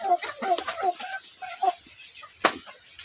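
A chicken clucks in a quick run of short, close calls, then a pause and a few more, ending with a sharp flutter or smack; a person's voice is faintly mixed in.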